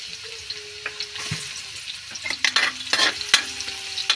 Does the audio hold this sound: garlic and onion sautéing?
yes